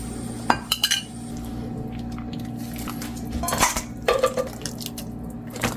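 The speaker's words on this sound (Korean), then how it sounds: "건더기를 모두 건져야죠" Scooping solids out of a pot of simmering beef broth brings scattered metal clinks and ladle scrapes against the pot, with a few light liquid drips between knocks, close by and without talk.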